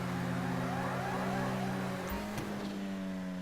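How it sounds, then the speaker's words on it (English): In the racing video game GTA 5 Online, a car's engine accelerates during a fast lap with a steady, close droning roar and no talk over it. "You can hear the car accelerate."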